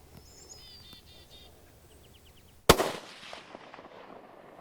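A single loud, sharp rifle shot fired at a blacktail deer buck, cracking abruptly with a short echoing decay, preceded by quiet outdoor ambience with birds chirping.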